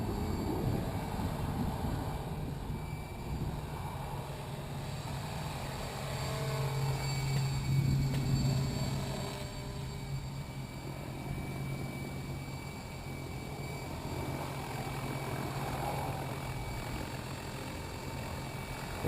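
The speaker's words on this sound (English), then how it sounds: "That actually sounds pretty cool like that. Doesn't it? Yeah. You can hear the blades." A Logo 600 RC helicopter spools its rotor blades at low headspeed, giving a steady low droning whir with a faint blade thump that holds evenly for the whole stretch, moderately close and without talk.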